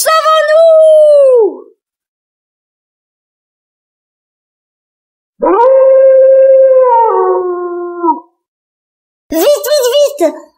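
A wolf howls loudly and close as a sound effect in a Halloween story read aloud, giving three long, drawn-out howls separated by silent gaps.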